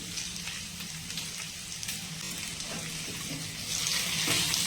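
Capsicum sizzling in a pan for chilli paneer, a steady quiet hiss of frying that swells slightly toward the end, with no voices.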